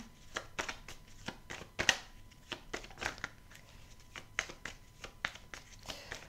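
Someone handles a Titania tarot deck, drawing a card amid a run of soft, crisp card flicks and slides that come as quiet, separate rustling taps.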